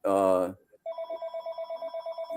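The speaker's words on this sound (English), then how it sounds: "my wife will get that phone" A landline telephone rings in the background right after a brief spoken phrase, its bell repeating in a steady train of quick, evenly spaced pulses.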